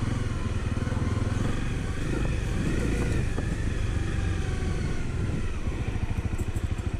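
A Honda CRF250L motorcycle engine drones steadily at high revs on a steep, dusty hill on a hot day, the buzzy exhaust fairly distant and continuous with slight rises in pitch.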